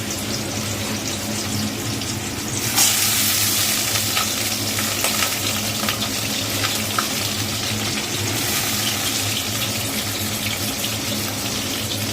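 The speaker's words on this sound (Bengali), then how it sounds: "দেখো আলুটা ছেড়ে দিলাম।" Potatoes dropped into hot oil in a pan while cooking a jackfruit and prawn curry, giving a steady, fairly loud frying sizzle with a sharper burst early on, continuing alone without talk.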